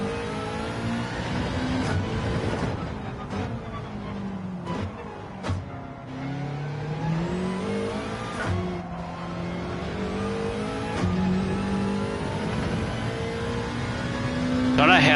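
Race car engine in Gran Turismo 7 revving hard under heavy throttle, pitch sweeping up and down through gear changes, loud and continuous with a voice talking over it.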